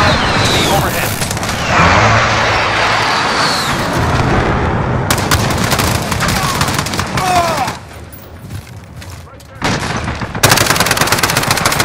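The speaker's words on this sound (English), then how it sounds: "Allied precision airstrike incoming." Precision airstrike in the Modern Warfare video game, a loud, dense barrage of rapid explosions and gunfire rumbling for several seconds, easing briefly before a final heavy burst of blasts.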